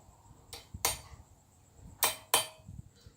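A hammer taps a steel rod through a nut used as a spacer while forging chain-making tongs, giving four sharp metallic strikes in two pairs, close and fairly quiet against a low background.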